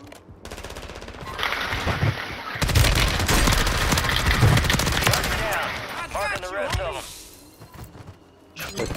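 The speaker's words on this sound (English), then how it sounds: "Well, I miss every single shot." Rapid automatic gunfire from a Call of Duty match crackles in dense bursts alongside booming impacts, loud and close, with a voice talking over parts of the action.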